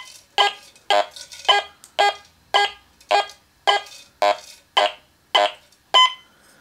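A Quest X10 Pro metal detector gives its surface target alarm as a regular series of about eleven loud, buzzy electronic beeps, roughly two per second, each one short and clipped and separated by clear gaps.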